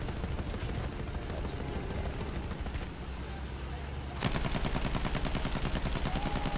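Rapid automatic gunfire from the video game Battlefield 1 rattles through dense battle noise, becoming a steady, loud burst of repeated shots in the final seconds.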